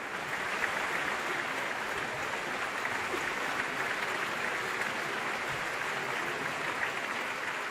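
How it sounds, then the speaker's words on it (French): An opera house audience applauds and cheers Bonaparte without pause for his composure after an assassination attempt, a steady, dense, fairly distant wash of clapping that holds at an even level throughout. "on l'acclame sans discontinuer pour son sang-froid"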